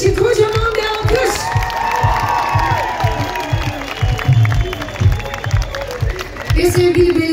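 A festival concert crowd in Turkey applauds the band, with continuous clapping and cheering under a loud, echoing voice speaking over a microphone throughout.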